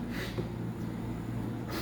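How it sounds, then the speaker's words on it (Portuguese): A person gives two short nasal sniffs, one near the start and one near the end, close to the mic over a low, steady room hum. "Primeira fungada."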